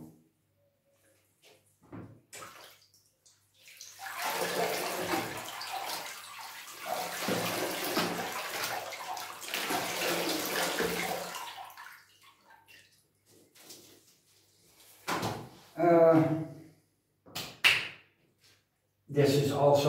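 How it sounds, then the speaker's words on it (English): Water pouring into a very large potted plant, a broad splashing wash that runs for several seconds, followed by a few short knocks and bumps as the pot and things around it are handled. "This is also a miserable plant to water because it is so incredibly big."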